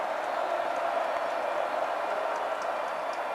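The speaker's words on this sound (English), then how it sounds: "Gets loud, and the crowd gets involved." Loud, steady roar of a football stadium crowd at a South Carolina vs Clemson college game, a dense continuous wash of cheering and noise with no breaks.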